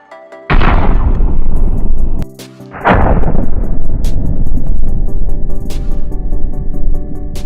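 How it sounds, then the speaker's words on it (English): Two grenade blasts in the Call of Duty Mobile video game, each a loud, sudden boom that decays into a rumbling tail, the second following about two seconds after the first, with faint sharp in-game clicks in between. "first have a look at these two explosions."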